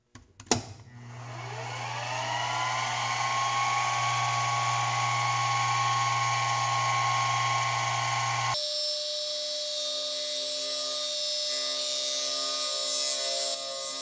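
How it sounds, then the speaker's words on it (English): Metal machining of a 3D printed stainless steel part on a lathe or mill, a steady high whirring cut with tonal squeal that rises in after a brief clatter, then shifts pitch midway, alone without speech. "So it turns out that 3D printed stainless steel cuts a lot like 304 stainless."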